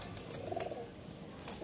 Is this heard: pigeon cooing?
yes